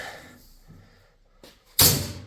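A lambo-style vertical car door from a cheap aftermarket kit fitted to a homemade kart swings and shuts with a loud, sharp thud near the end, after a few quieter mechanical shifts and clicks.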